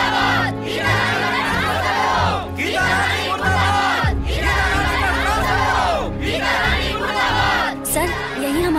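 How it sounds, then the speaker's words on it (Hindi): A large crowd shouting slogans against a school principal, loud and close, in rhythmic chanted bursts repeated about four times with short gaps between them. "वो मेरे खिलाफ नारे लगा रहे हैं"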